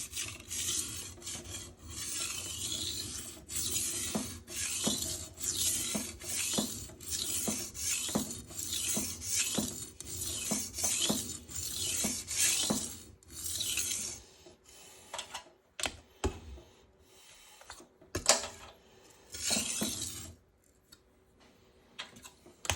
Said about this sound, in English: Starting to get 70 strokes per side, plus some grinding, starting to get a burr.